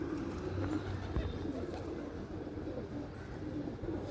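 Pigeons coo softly with low murmuring calls against a steady background hum, continuous and fairly faint throughout.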